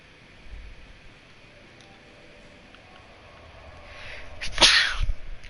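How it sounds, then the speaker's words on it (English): A single sharp sneeze bursts out near the microphone during a Dark Souls 2 Scholar of the First Sin play session, rising briefly over low background hiss and fading quickly. "I probably should have muted before I sneezed."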